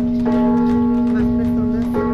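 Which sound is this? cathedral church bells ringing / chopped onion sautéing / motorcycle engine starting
cathedral church bells ringing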